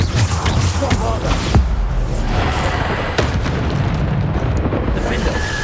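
Bombarda spell blasts in Hogwarts Legacy boom repeatedly amid combat noise, several loud bursts with a rumbling low end, layered with other spell effects and game sounds throughout.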